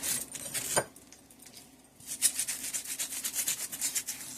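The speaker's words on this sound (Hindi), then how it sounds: "ये स्लाइस रखे, इस पे हम बटर लगाते माशाल्लाह देखें।" Butter is spread onto a bread slice for a fried egg sandwich, with a knife scraping in short repeated close strokes, and a pause before the rubbing resumes.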